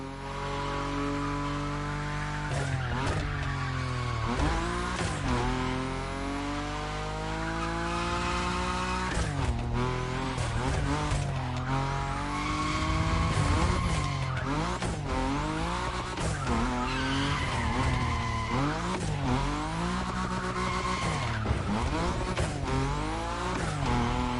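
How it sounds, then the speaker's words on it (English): Nissan Nismo sliding at high speed in The Crew Motorfest, its engine droning loud and steady with rising and falling pitch sweeps and tire squeal running continuously throughout. "Your Nismo is powerful enough to slide along on its own when you're at high speed"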